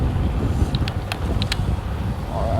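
Steady wind buffets outdoors with a constant low rumble, heard while riding an Ariel Rider X-Class electric bike along a street, with faint brief tones and no talk.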